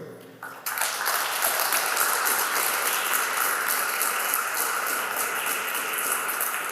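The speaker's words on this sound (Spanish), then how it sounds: "Denle el aplauso fuerte al Señor" A church congregation claps together after a sermon prompt, a dense, steady wash of applause that starts abruptly and holds loud for several seconds.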